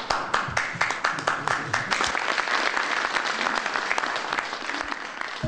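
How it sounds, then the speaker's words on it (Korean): Applause from an audience in the United States, a burst of dense clapping that starts sharp and loud, then carries on steadily and fades slightly over about five seconds, with no talking over it. "미국에선 박수가 터져나왔지만"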